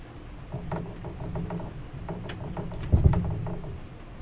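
The tailstock of a wood lathe slides up and is tightened against a pine lidded-box blank, a series of close metallic clicks, scrapes and ratcheting knocks ending in a firmer clunk.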